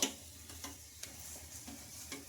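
A green gram paratha fries in oil in a pan over a low flame, giving a faint, steady sizzle with soft periodic ticks and taps.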